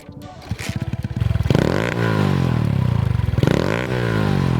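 An X7 super pocket bike fitted with a Yoshimura RS4 exhaust chugs and sputters at first, then revs up in two rising, buzzing bursts that settle back toward idle, loud and close.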